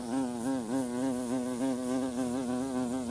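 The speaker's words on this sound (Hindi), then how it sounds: "भाई, भाई सामने मुझे मधुमक्खी दिख रही है" Steady, continuous bee buzz from the video game Walk Master, loud and close, with a wavering drone that swells slightly in regular pulses and no talking over it.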